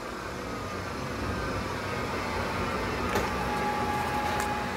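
A Hardinge HLV-H toolroom lathe spins at 3,000 RPM with no collet fitted, giving a steady, faint mechanical whir and hum with a light rattling chatter from the collet closer, running alone without talk.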